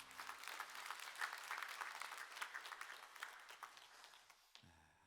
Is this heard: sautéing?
no